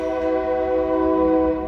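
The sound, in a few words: train passing with horn blowing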